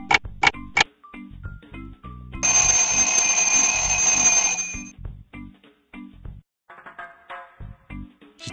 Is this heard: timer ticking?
yes